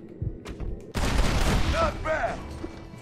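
A rapid volley of gunfire erupts in the video game Red Dead Redemption, a dense crackling burst lasting about a second with mechanical clicks, while a player speaks briefly over the in-game noise.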